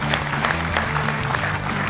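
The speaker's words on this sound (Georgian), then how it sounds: "აი ეს აპლოდისმენტები თქვენ" A studio audience at a comedy game show claps in a dense, steady wash of applause that lasts throughout, with a low musical hum running underneath.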